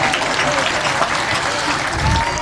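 Sustained applause from a hoop dance contest audience fills the air as dense, steady clapping, with a voice briefly heard over it.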